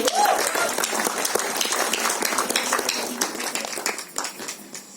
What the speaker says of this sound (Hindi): जोरदार तालियां ladies and gentlemen